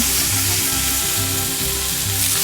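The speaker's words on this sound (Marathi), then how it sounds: "कांदा मस्तपैकी परतून घ्यायचा।" Chopped onions and garlic sauté in hot oil in a pan, a loud, dense sizzle crackling continuously up close with faint stirring.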